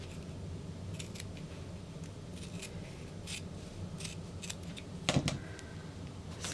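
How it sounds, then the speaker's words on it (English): Hand scissors cut through fabric for a bag pattern in a series of quiet, close, crisp snips with small rustles, ending in a slightly louder cluster of cuts near the end. It is faint and there is no talking. "The bottom angle is easier to cut by hand."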